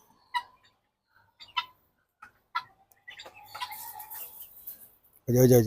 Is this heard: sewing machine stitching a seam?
no